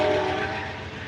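A locomotive rumbles past on the rails with a steady, close, low droning roar that fades slightly toward the end, with no voices.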